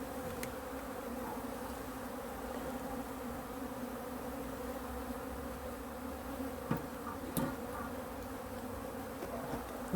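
Honeybees hum in a dense, steady drone at an open hive, close and constant, with a few faint clicks and knocks of frames being handled and no voices.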